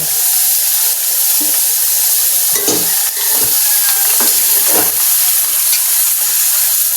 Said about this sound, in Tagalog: Lalagyan na rin po natin ang ating karne na hinimay-himay.